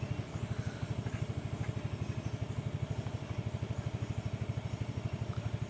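A motorcycle engine labors uphill on a mountain trail, chugging in a fast, even pulsing rhythm at moderate distance with no voices over it.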